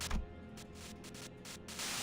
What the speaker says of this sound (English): white noise breaks through the truck's silence.